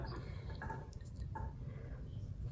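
Water pours steadily into a pot as the first step of making gelatin jelly, a continuous close liquid rush with light splashing and dripping throughout.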